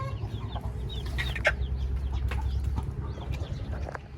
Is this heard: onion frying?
no